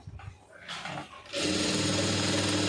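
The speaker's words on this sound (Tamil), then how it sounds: "ஒரு தையல் அந்த லென்த்து எவ்வளோ இருக்கோ அந்த லென்த் அப்படியே வந்து ஓட்டிக்கிடுங்க" An electric sewing machine stitches grape silk cloth for tailoring. Quiet handling sounds come first, then after about a second the motor starts with a loud, close, continuous whirring hum.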